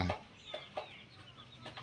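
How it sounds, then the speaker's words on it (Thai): Chickens being raised on a Thai farm give a few short, soft clucks, spaced irregularly and fairly quiet. "ตรงนี้กำลังเลี้ยงไก่ครับ"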